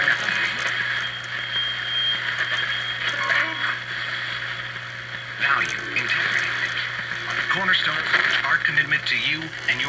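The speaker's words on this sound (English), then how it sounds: "you can definitely hear on that the rattle of the speaker" A Motorola 7XM21 radio plays an FM broadcast of talk through a worn speaker that rattles and buzzes, giving the voices a thin, distorted tone.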